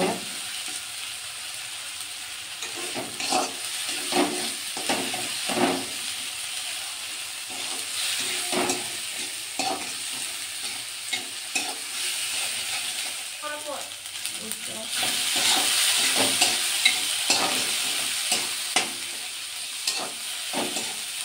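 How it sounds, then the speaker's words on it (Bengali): Spice masala with tomato sautéing in a pan, a steady close sizzle with irregular stirring scrapes and taps, the hiss swelling louder toward the end. "মশলাটা একটু কষিয়ে নেব।"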